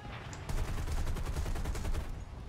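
Rapid automatic gunfire rings out in the War Thunder combat game, a dense, loud stream of closely spaced shots that stays steady for about two seconds.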